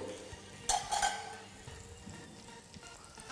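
Mackerel fillet frying in butter in a pan: a soft, steady sizzle with a couple of sharp clinks of a utensil against the pan near the start.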